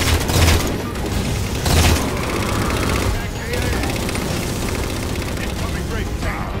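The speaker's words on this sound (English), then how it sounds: "Target those Phantoms for the railgun to shoot down" Heavy weapon fire and booming blasts in the Halo 4 video game as a railgun fires at Phantom dropships, dense continuous explosions and gunfire with strong low thuds, a voice briefly heard over the battle.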